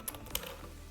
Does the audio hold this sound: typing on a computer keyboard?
yes